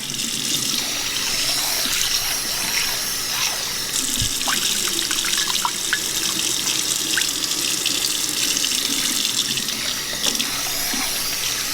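Tap water runs steadily into a sink while rice is rinsed, a continuous close splashing and trickling with occasional small clinks of grains and bowl, no talking.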